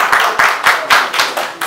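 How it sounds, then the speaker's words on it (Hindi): Audience clapping at the Tecno Spark 4 Air and Spark Go phone launch, loud close bursts of hands in a pulsing rhythm, about seven distinct swells. "Techno ने एक बारी जोरदार तालियां हो जाएं"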